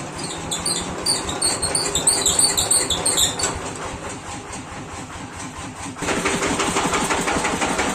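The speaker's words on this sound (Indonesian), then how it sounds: "mesinnya sudah hidup semua dan ini tidak tahu kenapa suara mesinnya ngelek-ngelek" A tractor engine runs steadily nearby, said to knock irregularly, with a loud, continuous mechanical rumble that grows rougher and louder near the end.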